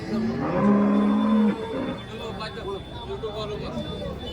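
A cow at a farmers' cattle market in Chalisgaon gives a long, loud, steady moo close by, followed by softer lowing mixed with nearby voices talking.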